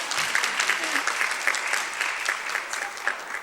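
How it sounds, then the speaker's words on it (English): Conference session audience applauding, a moderate burst of many hands clapping steadily at mid distance with no talking over it. "Please, please give me applause."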